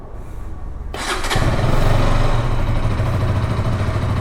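A 2025 KTM RC 200 motorcycle with an underbelly exhaust fires up after a second of near silence, revs briefly, then settles into a loud, close, steady low-rpm idle rumble.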